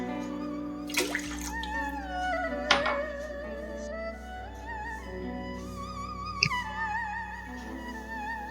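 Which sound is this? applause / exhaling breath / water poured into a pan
water poured into a pan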